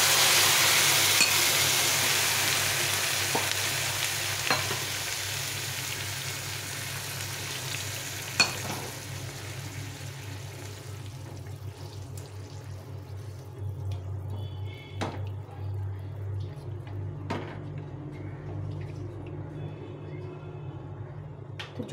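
Rice simmers in a pot after two bowls of water are poured in. A steady low bubbling and sizzling fills the whole clip, with faint clinks and a few sharp knocks of utensils against the pot.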